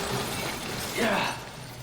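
Metal Gear Rex's radome shattering in Metal Gear Solid, a short crashing break that swells about midway and fades, over a steady game background hum with a voice nearby.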